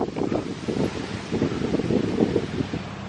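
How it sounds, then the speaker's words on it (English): Strong outdoor wind buffets the microphone in gusty, rumbling surges, a continuous roar with no voices over it. "It's very windy today."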